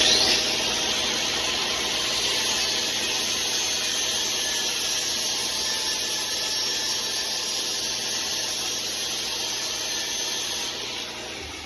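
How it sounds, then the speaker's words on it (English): An angle grinder radiuses a machined metal part for a coilover press fit on a Honda Acty kei truck, a steady loud high-pitched whine grinding on continuously and close up throughout. "I'm going to take an angle grinder to give myself a bit of a radius, just to help taper it in for the press fit"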